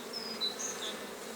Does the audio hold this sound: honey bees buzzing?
yes